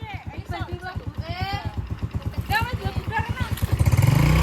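A motorcycle engine runs steadily at close range, its rapid even pulsing throbbing throughout as people chat over it, the revs rising slightly toward the end.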